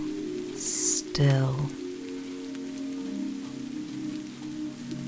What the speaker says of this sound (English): You hear it tapping against the terracotta rooftop.